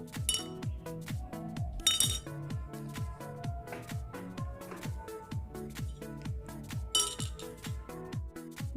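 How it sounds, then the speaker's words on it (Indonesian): A metal spoon stirs sweet tea in a glass, ringing out in quick, steady clinks against the sides, close and bright, with a few sharper taps mixed in and no talking. "Kemudian aduk kembali hingga larut."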